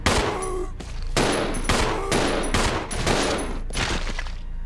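Billy firing his gun in Resident Evil 0 HD Remaster, a rapid series of about six loud, close gunshot bursts in a steady rhythm, each with a short echoing tail, no talk.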